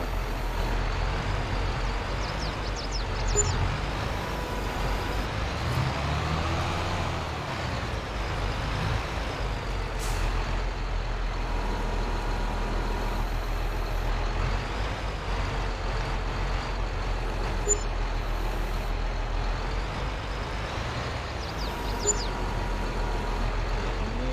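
A tractor engine in Farming Simulator 22 holds a steady low drone throughout, with occasional brief hissing air brake releases and faint high chirps over it.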